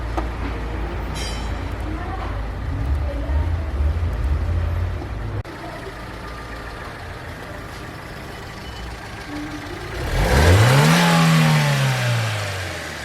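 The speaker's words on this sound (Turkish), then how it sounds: "Araç şu anda gazda. Hiçbir problem yok." A Fiat Palio 1.2 engine just back from cylinder work after overheating idles steadily, then revs up near the end and falls away, loud and close in a workshop.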